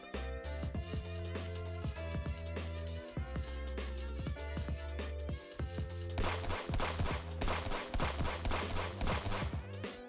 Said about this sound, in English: the gunshots can actually be heard on stream